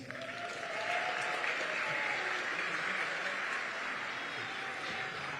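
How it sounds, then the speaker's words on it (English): Audience clapping for graduating seniors at a school spring concert, a sustained, fairly distant round of applause that swells in and holds steady without talk. "One more big round of applause for our seniors."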